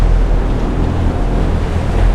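Loud, continuous rush of water and wind noise as waves splash against a sailing boat in 21 to 25 knot winds on an ocean passage, with no clear individual impacts.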